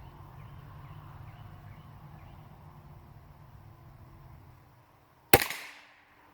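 One sharp, loud report from a Hatsan Escort .22 LR gun cuts through a quiet outdoor hum and is followed by a short echoing decay.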